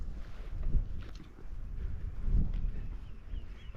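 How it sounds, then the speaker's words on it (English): Breezy wind on a beach during a September wild camp: a low, quiet rumble of wind buffeting the microphone that swells and fades in soft gusts. "It's just the wind. It's quite breezy today."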